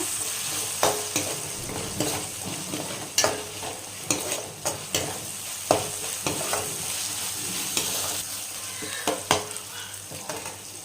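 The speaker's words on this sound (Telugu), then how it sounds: "కారం వేసుకొని కొంచెం వేగినాక" Red chili powder fries in oil in a pan for tomato rice, a close steady sizzle punctuated by regular scraping and clinking strokes of a spoon stirring, with no voices.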